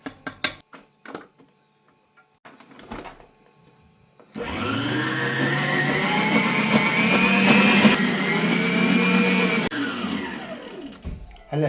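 An electric mixer whisks butter and sugar for cupcake batter, running steadily and loudly for several seconds with a whirring hum and rattling beaters after a few soft knocks, then winding down at the end.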